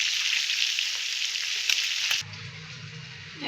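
Pangas fish frying in oil is turned over. A loud, dense sizzle runs for about two seconds, a couple of clicks mark the flip, and then the frying drops abruptly to a quieter, lower bubbling.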